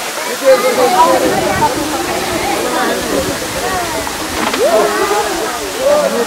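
Fung Fung waterfall at Ranipauwa in Nuwakot, Nepal, a steady rushing roar of falling water close by, with people talking over it throughout.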